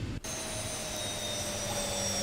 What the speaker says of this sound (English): Let's go engine number 2, engine number 1. Hear it shut down.